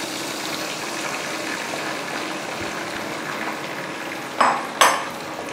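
A soy sauce mixture is stirred into chicken Manchurian with fried spring onion greens in a pan, giving a steady sizzling hiss that ends in two sharp scraping clinks of a utensil against the pan.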